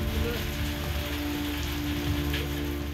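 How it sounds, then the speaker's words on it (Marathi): Heavy rain pours steadily around the Pandharpur Vitthal Rukmini temple, a dense unbroken hiss of drops on surfaces with a low background hum running throughout. "मागचे 2-3 दिवस आपण पाहतोय की अतिवृष्टी सदृश्य या पंढरपुरात पाऊस पडत आहे"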